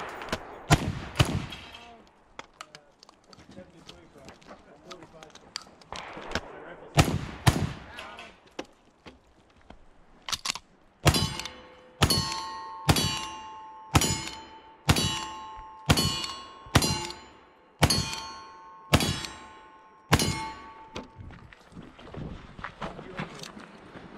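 Uberti 1866 Yellowboy lever-action rifle and 1851 Navy revolver rounds ring off steel targets in a rapid, evenly spaced string of about fifteen sharp shots, each followed by a bright metallic clang, loud and close, with a few scattered shots earlier.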